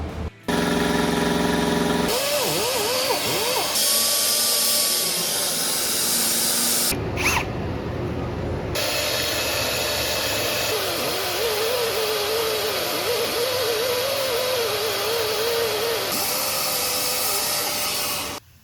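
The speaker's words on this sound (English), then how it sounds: "The die grinder worked really good." A high-pitched die grinder sanding rusty metal on a 1968 Camaro frame whines loudly, its pitch rising and falling as it bites, with short pauses between grinding passes.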